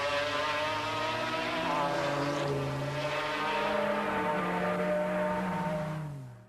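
Porsche and McLaren race cars battling at Le Mans, with a loud sustained engine roar that shifts pitch as the cars pass and then quickly fades out at the end.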